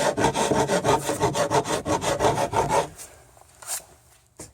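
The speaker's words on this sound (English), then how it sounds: "It's a bastard file. Doing a lot of that." A bastard file rasps across a wooden rudder in quick, even back-and-forth strokes, loud and close for about three seconds, then falls to near silence with a faint knock or two.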